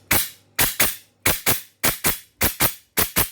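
An electric gel blaster, an LDT DDM4 PDW, fires eleven sharp, loud, close cracks, mostly in quick pairs with short pauses between, each snapping off cleanly with no talking.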